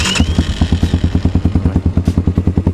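Gazgas Hummer 150 Pro supermoto, a 150cc bike with a free-flow racing exhaust, fires up and settles into a loud, close, rapid thumping idle with steady even pulses.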